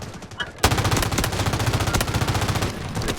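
Rapid bursts of automatic gunfire from the mobile shooter Delta Force Mobile crackle loudly and continuously, with dense rattling shots over game ambience.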